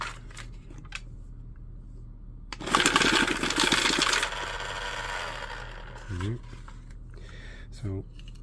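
A two-deck electric automatic card shuffler whirs and rapidly riffles cards in a loud burst of clattering, preceded and followed by a few quiet clicks and taps.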